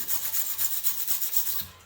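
A hand wire brush scrubs metal at a blacksmith's forge in quick back-and-forth strokes, a close, steady rasping with about a dozen rhythmic passes and no talk.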